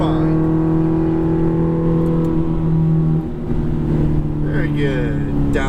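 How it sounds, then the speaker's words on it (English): Ferrari F430 engine pulling hard at full throttle, a loud steady harmonic drone that climbs in pitch, dips briefly with a gear change near the middle, then surges again, heard from inside the cabin. "Picking up your throttle. Accelerate. Full throttle if you would like."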